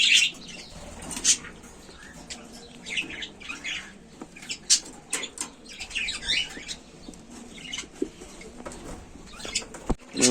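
Homing pigeons in a loft at a pigeon and ornamental bird farm, with frequent wing flaps and scattered chirps and coos close by over a steady murmur of birds, no talking.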